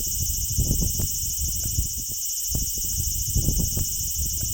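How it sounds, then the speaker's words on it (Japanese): A large brown cicada (aburazemi) sings in a loud, continuous, harsh buzzing drone that stays unbroken throughout, with faint low rumbling and knocks underneath. "セミの鳴き声はおよそ 8kHz。"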